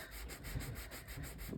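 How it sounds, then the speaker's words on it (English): Sanding block with worn grit rubbing across a playing card, a steady close scratchy rasp that keeps going without a break for the whole stretch, with no voices over it. "I'm just going to kind of sand this. I'm going to find a piece on this sanding block that has a fair amount of grit left in it."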